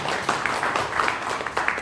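Brief burst of audience clapping at a business seminar, a dense patter of hands with a few louder claps standing out, close and steady for under two seconds.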